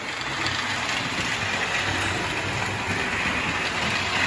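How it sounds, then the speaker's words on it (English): Two Lionel model trains run continuously with a steady whirring, rattling hum that stays even and close, with no talking over it. "Running 2 trains."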